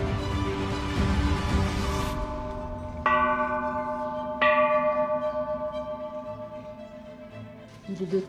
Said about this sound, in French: Il est de tradition de frapper trois fois sur les cloches en formulant un vœu ou plusieurs